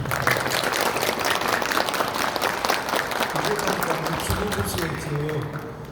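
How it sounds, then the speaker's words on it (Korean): An audience at a ceremony applauds in a dense, loud burst of clapping that continues steadily, with a few voices faintly mixed in near the end as the applause begins to ease. "박수 한번 보내주십시오."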